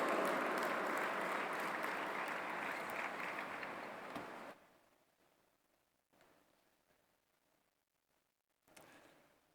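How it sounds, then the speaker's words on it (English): Loud, dense applause from a large audience at an interfaith forum welcome session in Pune, India, greeting a professor, sustained for about four seconds before dropping off sharply, with faint scattered claps and room noise after. "Please give a huge round of applause to Professor Dr. Cole Durham."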